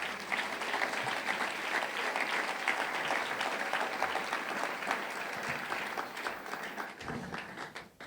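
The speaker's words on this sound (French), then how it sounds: "Nous pouvons acclamer le Seigneur" A church congregation applauds and cheers in praise during a service, dense sustained clapping from a large crowd that carries steadily and fades near the end.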